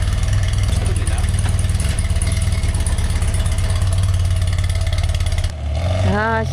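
A 45-year-old BMW R100 motorcycle engine runs loud and close with a steady throbbing idle that cuts out near the end, followed by a few brief rising whistling tones.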